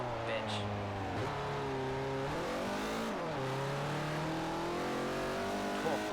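A supercharged race car engine roars in a racing video game, its pitch climbing and dropping through repeated revs and gear shifts, loud and close throughout.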